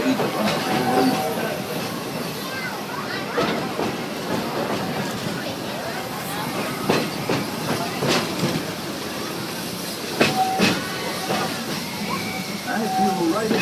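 The Walt Disney World Railroad train runs from Frontierland toward Fantasyland, rails clicking and rumbling steadily with occasional metallic squeals, while a recorded narrator talks over the moderate, continuous ride noise.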